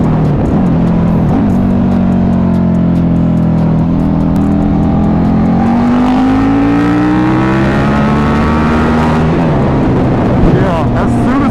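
KTM RC8 1190 R motorcycle engine pulling hard, a loud rising drone that climbs steadily in pitch over several seconds and then drops back, heard close up from the rider's position.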